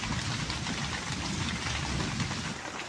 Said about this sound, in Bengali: এখন বৃষ্টি পড়তেছে